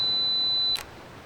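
A camera's two-second self-timer emits a thin, steady high-pitched tone that ends in a short soft click, quiet and close with a faint hiss beneath.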